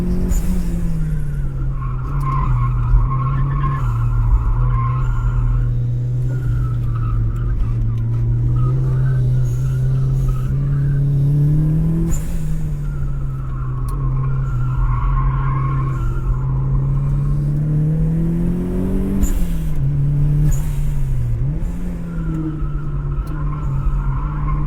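A budget turbocharged Mazda Miata with an open differential runs hard on a racetrack while chasing a Lotus Evora. Its engine drones loud and steady, rising and falling with throttle, and tires squeal through the corners, captured close from inside the car.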